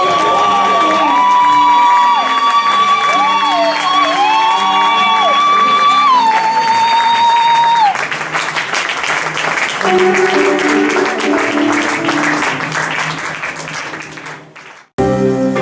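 A church congregation cheers, whoops and applauds loudly with sustained crowd noise over musical tones, the roar fading toward the end before a sharp cut.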